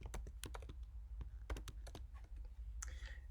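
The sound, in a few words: typing on a computer keyboard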